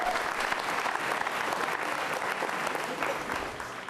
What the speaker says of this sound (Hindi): तालियां बजा के प्रेरित कीजिए